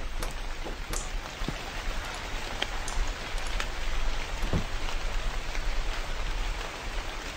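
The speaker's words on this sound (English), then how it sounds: "Oh god, it's raining." Steady rain in a Japanese horror game set at a convenience store at night, a continuous hiss of falling water with scattered droplet taps and no talking.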